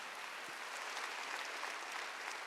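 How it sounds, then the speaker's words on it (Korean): A church congregation at a Wednesday worship service claps in applause, a faint, steady wash of many hands heard from a distance. "박수로 나와주세요"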